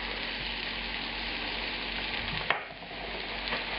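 Veal and mushrooms fry in a pan on high heat with a steady, close sizzle, broken once by a sharp clink and a brief dip before the crackling resumes.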